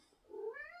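A single cat meow, a short rising, fairly faint call heard alone without talk.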